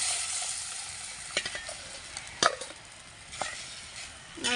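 Curry liquid is poured over onions frying in a pan for a Tamil-style fish curry, producing a steady loud sizzle with scattered spatters and stirring scrapes, close up and without talk.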